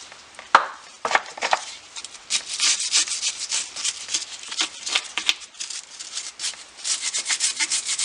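A rag wipes the differential housing of a 2003 Jeep Cherokee Liberty KJ in quick, close rubbing strokes, with a few light knocks early on, then repeated scrubbing swishes.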